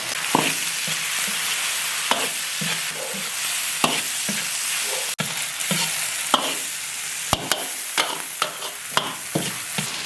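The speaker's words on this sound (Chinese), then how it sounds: "猪肝炒变色以后，下入青红辣子、洋葱，加点盐、" Pork liver stir-frying in a wok with green and red chilies and onion. A loud, continuous sizzle runs throughout, broken by sharp clinks and scrapes of a spatula tossing the ingredients. No one speaks.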